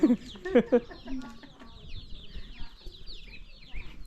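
A chicken clucks sharply several times close by at the start, followed by quieter scattered clucks and faint chirping in an outdoor setting.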